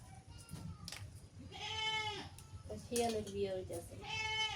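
A goat bleats in a rural village yard on a rainy, windy day, giving three or four wavering, tonal cries in quick succession, fairly close and loud over a low murmur of background noise.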